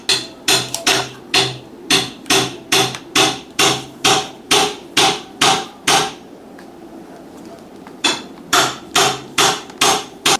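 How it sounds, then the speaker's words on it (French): Hammering from construction work next door, loud rhythmic blows struck about twice a second in a long run, a short pause, then another burst of evenly spaced strikes. "vu qu'il y a les travaux à côté, vous n'allez pas m'entendre"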